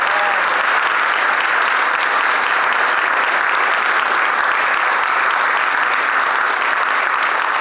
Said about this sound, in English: can we just give a big clap and acknowledgement to James and Evan